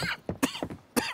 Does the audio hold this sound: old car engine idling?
no